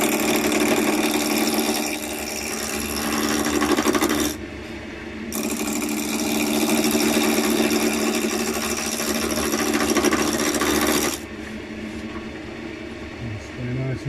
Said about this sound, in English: bit of a whinging going on, and I think that's the belt